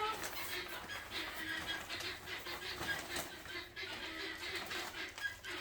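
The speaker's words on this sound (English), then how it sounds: "you can hear our lovely guineas tell us that, hey, there are people in this greenhouse" Guinea fowl call repeatedly inside a greenhouse, a steady chorus of harsh clucking cries at moderate distance, continuous through the whole stretch.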